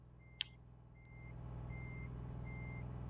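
In the Euro Truck Simulator 2 video game, a truck's reversing alarm sounds as a few evenly spaced, steady beeps over a low engine rumble, with a brief click near the start.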